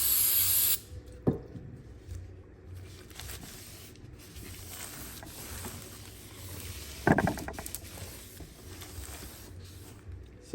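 Cleaner sprays onto a Toyota Highlander rear brake rotor in steady hissing bursts, an opening spray and a stronger burst later, with faint rubbing and handling sounds between them and no talk.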